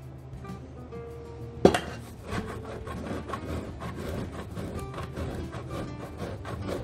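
Cold butter dusted with flour being grated for biscuits, heard as a steady close run of rapid scraping strokes against the grater, with a sharp clink near the start and no talk.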